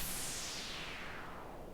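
A synthesized white-noise swoosh with delay echo and a low-pass filter sweeping downward, bright hiss steadily darkening over under two seconds, loud and continuous with no voices.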